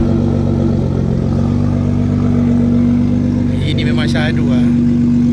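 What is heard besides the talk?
car engine with modified exhaust revving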